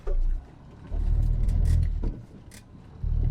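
A Renault Twingo 1 engine running after a fix for bucking in every gear, a low close rumble that swells and fades in uneven surges with brief quieter gaps.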